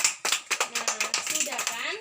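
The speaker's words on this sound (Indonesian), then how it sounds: "kita tepuk tangan untuk kelompoknya Lisa" A classroom of primary school children claps for a student group after a maths lesson, a burst of quick uneven hand claps running for about two seconds, fairly close, with voices mixed in.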